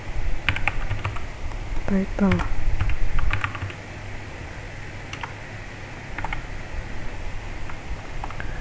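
Typing on a computer keyboard while writing Laravel Blade template code, bursts of quick close key clicks in irregular runs, with a brief spoken voice in the middle and quieter pauses between.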